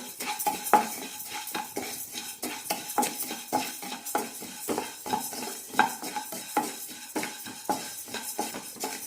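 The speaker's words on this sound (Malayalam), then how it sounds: "പുഴുങ്ങലരിയാണ് എടുത്തിരിക്കുന്നത്. നന്നായി പൊരിയുന്നത് വരെ വറുത്തെടുക്കാം" Parboiled rice being dry-roasted in a pan, with a utensil steadily scraping and stirring the grains against the metal in an irregular, close rhythm, a faint sizzle underneath and no talking.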